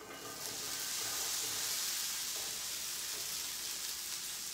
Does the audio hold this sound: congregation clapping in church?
no